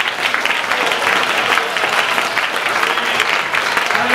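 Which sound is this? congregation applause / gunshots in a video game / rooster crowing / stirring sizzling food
congregation applause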